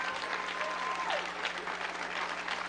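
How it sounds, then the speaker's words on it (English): An audience applauds steadily at a school ribbon-cutting ceremony for the construction partners. The clapping is dense and continuous throughout, set against a faint background hum. "Our construction partners, give them a big round of applause."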